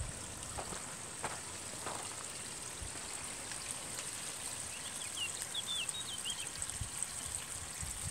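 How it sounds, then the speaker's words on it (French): Water trickles steadily down a garden pond cascade, a soft continuous splashing flow with faint bird chirps in the background and no voices. "Vous entendez un tout petit peu l'eau qui coule, c'est ce que je voulais."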